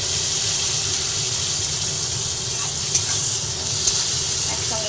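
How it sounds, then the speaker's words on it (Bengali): Onion, garlic and chopped tomato fry together in a pan with a loud, steady hissing sizzle close by, plus a couple of faint stirring taps and no speech. "একসঙ্গে সব ভেজে নিচ্ছি"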